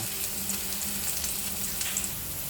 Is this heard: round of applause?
no